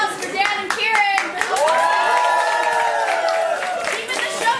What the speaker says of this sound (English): A big round of applause for Dan and Kieran.